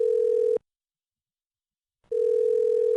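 Telephone ringing: two long, steady electronic ring tones separated by a pause of about a second and a half, clear and loud with nothing else over them.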